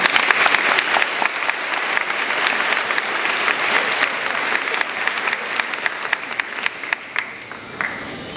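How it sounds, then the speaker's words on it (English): A graduation audience applauds the parents, a broad roar of clapping from many hands that stays full and steady, breaking toward the end into scattered, sharper individual claps. "Let's give our parents a round of applause."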